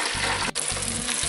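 Blanched chips drop back into hot oil for their second frying, a loud, close, steady bubbling sizzle with a brief dip as they go in.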